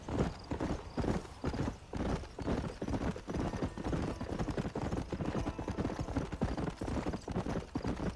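Horse hooves clip-clop steadily at a trot through the whole stretch in Red Dead Redemption, with an occasional neigh, loud and close with no talk over it.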